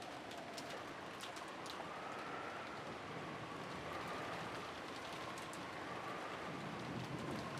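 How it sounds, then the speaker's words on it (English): Steady rain fills the quiet kitchen setting of the visual novel game Umineko When They Cry, a dense, even hiss with faint scattered drips throughout and no voices. "it was very quiet, not only with the sound of the rain."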